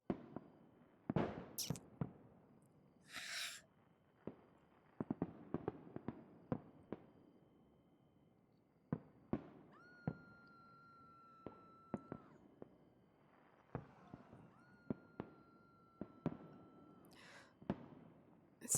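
Fireworks go off at a night masquerade: scattered sharp cracks and pops, some in quick clusters, a few bright whistles, mostly distant and fairly quiet, with no talk over them.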